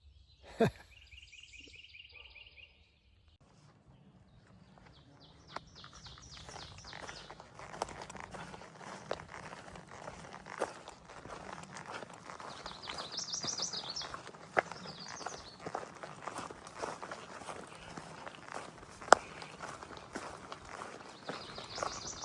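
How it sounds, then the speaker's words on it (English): Birds chirp and call repeatedly outdoors on the Appalachian Trail over a steady background hiss, with distant dogs and scattered faint thumps and rustles like footsteps. "I hear the dogs and the birds."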